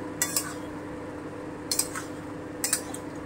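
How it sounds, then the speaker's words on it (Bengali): A metal lid is lifted off a cooking pot and set back down, giving three short metallic clinks spread over a few seconds above a quiet hum in the kitchen. "ঢাকাটা তুলে দেখি কতটা কি হলো"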